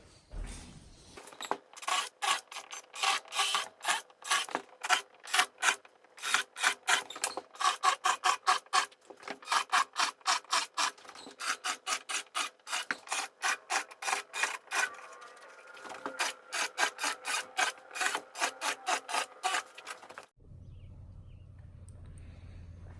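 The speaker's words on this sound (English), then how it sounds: "So, start drilling." A power drill bores holes for a wheel chock tie-down kit on a Can-Am Maverick Trail, a steady motor whine under rapid, rhythmic grinding bursts that stop and start for about twenty seconds, then fade to a low hum.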